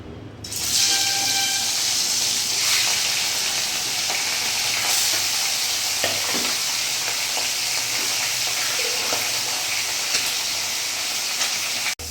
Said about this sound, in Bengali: তেলটা আমার গরম হয়ে গেছে। এবার আমি মাছগুলো ছেড়ে দেবো।